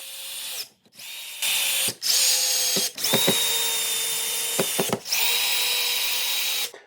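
A power drill drives screws into a wooden newel post, whining loudly in sustained runs broken by short pauses and brief ratcheting stops, close to the listener.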